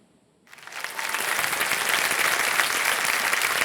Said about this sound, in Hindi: मैं चाहता हूं देवियों सज्जनों कि सम्मान भरी तालियों के साथ स्वागत किया जाए